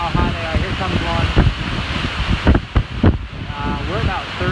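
Strong wind gusts roar during Hurricane Michael, a steady loud rush with surging peaks and buffeting, a voice speaking briefly beneath the noise.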